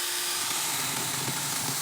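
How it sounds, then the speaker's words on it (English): A small, lightweight mini chainsaw cuts through wood for garden work, giving a steady high buzzing whine that sounds faint and fairly distant. "Having no problem cutting wood."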